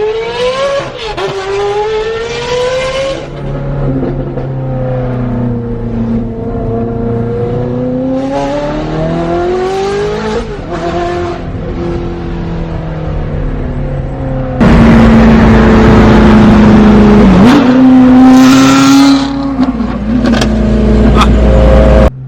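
A BMW engine revs hard again and again in loud rising and falling sweeps, heard up close from inside the car. A harsher, louder surge of revving comes near the end.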